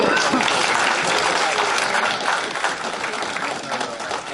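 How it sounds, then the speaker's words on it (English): Loud, steady audience applause at a meeting, a thick wash of many hands clapping together that holds at full strength throughout, easing slightly near the end. "Round of applause for everybody today."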